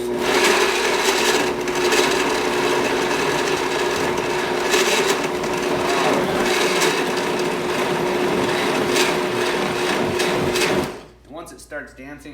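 A food chopper grinds pico de gallo vegetables in a steady, loud, rasping whir for about eleven seconds, then cuts off abruptly, followed by a voice speaking.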